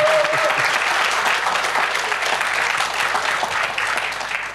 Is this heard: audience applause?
yes